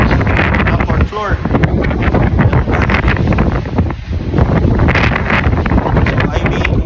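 Strong wind buffets the microphone outdoors, a loud continuous roaring rush that rises and dips briefly around the middle, with faint voices mixed underneath.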